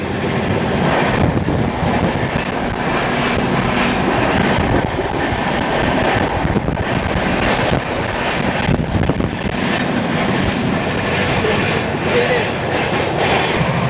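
The 12377 Sealdah–New Alipurduar Padatik Express runs at full speed, a loud continuous roar of wheels and carriages with rhythmic clatter and wind buffeting, heard from on board without pause.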